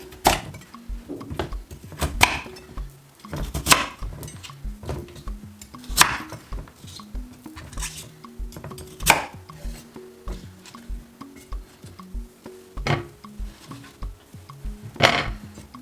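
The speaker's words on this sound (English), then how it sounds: "I'm going to chop it into some pieces." Knife chopping peeled sweet potato into pieces on a cutting board for baby food, a steady run of close, crisp chops with some louder knocks spaced through, no talking.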